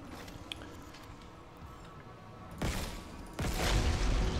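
Two sharp, loud bursts of gunfire in the video game Dead Space, the first near the three-second mark and the second lasting longer, over a steady low background hum.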